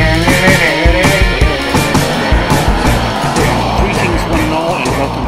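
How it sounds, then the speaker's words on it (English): Steady road traffic roars outside a store, with cars passing and tires hissing on the street, loud and continuous throughout. "Sorry about the road noise"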